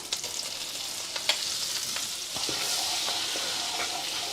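Flour cooks in melted butter in a pan as the base for a macaroni sauce, giving a soft, steady sizzle with light scraping and stirring clicks, close and fairly quiet, with no talk.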